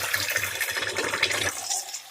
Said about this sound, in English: pour some water in the cup as much as you want